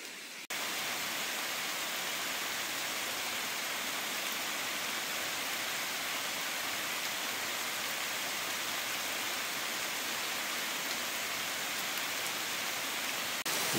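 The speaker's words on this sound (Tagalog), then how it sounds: "Mukhang seryoso talaga yung ulan." Heavy rain pours on a mountain trail near hiker shelters, a dense, unbroken hiss that starts abruptly and holds steady and fairly loud to the end.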